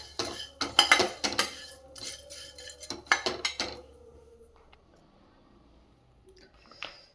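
A spoon stirs and clinks against a pot or cup while pepper is mixed in, a quick run of bright metallic taps and scrapes up close that slows and fades into quiet, ending with a single clink.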